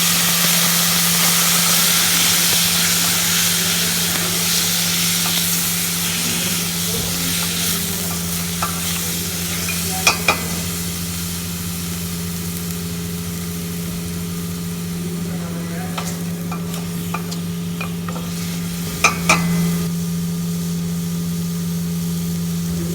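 Wine poured into a hot pan sets off a loud, steady sizzle, with stirring and a few sharp utensil clinks against the pan near the middle and the end, over a constant low hum.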